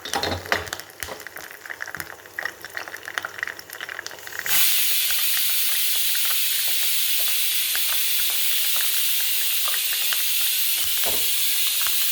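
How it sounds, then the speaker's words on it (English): Curry leaves frying in a tablespoon of coconut oil as seasoning for an avial, first a crackling sputter with clicks, then at about four and a half seconds a loud, steady hiss of steam and sizzle that holds to the end. "add the remaining coconut oil, that is 1 tablespoon oil, and fry the curry leaves."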